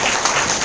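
An audience at a leaders' training meeting gives a burst of dense applause for someone speaker. The clapping is loud and continuous throughout the short moment.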